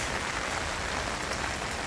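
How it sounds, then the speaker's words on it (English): Heavy summer rain in Korea pours steadily in a dense, unbroken hiss of drops hitting surfaces, loud and close, with no voices. "it's raining hard in Korea today"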